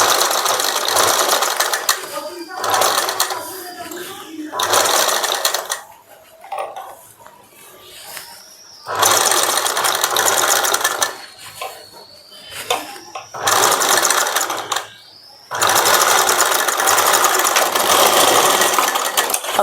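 A sewing machine stitching the neckline of a boat neck saree blouse runs in loud, close bursts of several seconds each, separated by quieter pauses with faint handling sounds.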